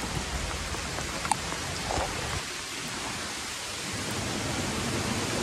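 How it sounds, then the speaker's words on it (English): Rain begins to fall outdoors on a cycle tour, making a steady, soft hiss with a few isolated drop ticks near the start. "Really starting to rain."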